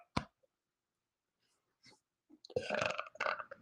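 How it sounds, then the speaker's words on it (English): A man gives a sharp hiccup, followed after a pause by faint breaths and then a louder throaty burp-like gulp, close and alone in a quiet room. "Got the hiccups now."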